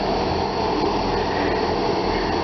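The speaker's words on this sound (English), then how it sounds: "This is the Southwest train service from Exeter St David's to London Waterloo." South Western turbo train at Exeter Central station gives a loud, steady diesel rumble and drone throughout, close by and unbroken, with no talk.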